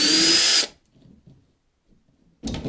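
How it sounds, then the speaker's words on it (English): A power drill whines loudly and steadily as it bores a small hole through the plastic cap of a syrup jug, then stops; after a quiet pause with faint handling, the drill starts up again near the end. "you're going to need to put a little drill hole here"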